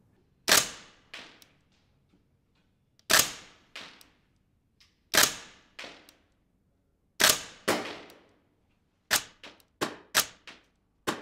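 A GBLS DAS airsoft rifle fires at a target 30 metres away: sharp, loud single shots with a short ringing tail, spaced about two seconds apart at first, then coming faster near the end, no talk.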